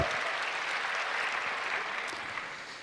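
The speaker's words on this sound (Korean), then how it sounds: "우리 하나님께 감사의 박수 올립시다." A church congregation claps together in a sustained, dense burst of applause that fills the sanctuary at a steady level from start to finish, with no voices rising above it.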